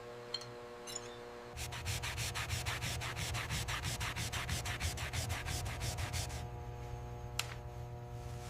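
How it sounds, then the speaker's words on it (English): Gold on a trophy being buffed with jeweller's rouge gives a steady, close, dry rubbing hiss with quick repeated strokes, over a constant low hum and with no talking. "Rouge and gold, the oldest polishing combination in human history,"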